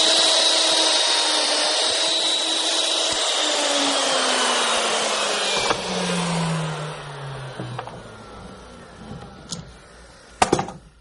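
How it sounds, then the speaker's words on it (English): A wood router whines loudly at high speed as it plunges straight down into wooden stock for a shop step stool, with a steady roar that drops in pitch as it spins down, then scattered clicks and knocks. "Not going to move the router, just going to plunge down."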